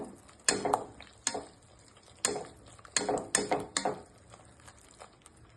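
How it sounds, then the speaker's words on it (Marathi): Spice masala being sautéed in a pan, heard as bursts of scraping and clattering stirring strokes in an irregular rhythm, close and fairly quiet, with low gaps between strokes and no talk. "चांगलं ना हे परतून घेऊया म्हणजे मसाले पण चांगले भाजले जातील"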